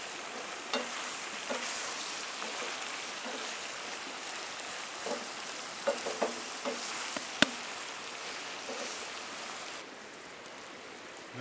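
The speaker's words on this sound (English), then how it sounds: "So you want to get it nice and fried up before we add the onions." Meat fries in a pan before onions go in, a soft steady sizzle at low level with scattered light pops and crackles and an occasional utensil tap, no speech.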